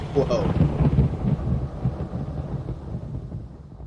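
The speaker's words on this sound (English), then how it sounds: "I love that I'm seeing clouds here and thunderstorms." A thunderstorm in the SimCity 3000 video game over a swamp city: a loud, low rolling thunder rumble with a hiss of rain that slowly fades, heard on its own.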